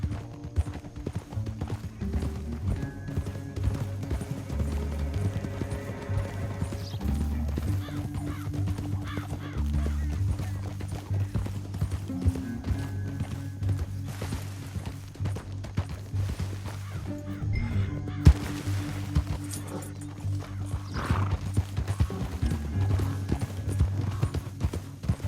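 Horses gallop in the Red Dead Redemption 2 video game, quick rhythmic clip-clop hoofbeats running continuously for a long stretch, with occasional whinnies, bird caws and game music underneath.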